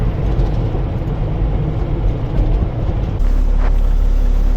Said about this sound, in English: we have a 40-mile-an-hour west wind that is gonna not play nice with us today